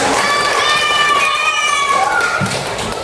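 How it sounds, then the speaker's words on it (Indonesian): Schoolchildren in a classroom clap and cheer together in a brief, loud burst of rhythmic applause, with voices mixed into the noise. "Tepukan untuk kita semuanya."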